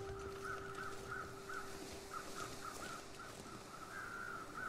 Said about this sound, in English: this area is quite noisy with birds at the moment because we've got a dead wolf, a dead person, and 2 dead deer